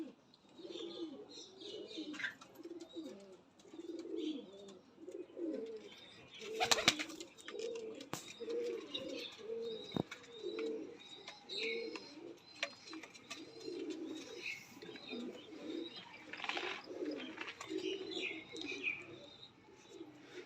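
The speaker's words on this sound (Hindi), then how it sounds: "कबूतर आपने देखा होगा मस्ती कर रहा है" Pigeons coo in a steady run of low, throaty, repeated calls, close by, with occasional chirps, knocks and rustles mixed in.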